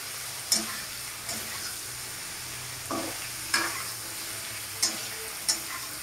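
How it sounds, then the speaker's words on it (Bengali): Cauliflower frying in a pan gives a low, constant sizzle, broken every second or so by distinct scraping clicks as the pieces are turned and stirred. "তো আমার ফুলকপিটা এখন ভাজা হচ্ছে"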